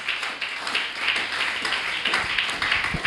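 A church congregation claps and cheers in acclaim of Jesus Christ, a steady wash of dense hand claps and voices filling the space at even loudness throughout.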